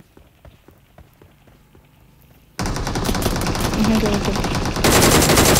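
Gunfire in a shooting game: quiet ticks at first, then a sudden dense rattle of rapid shots that grows louder toward the end. A player says a word early on.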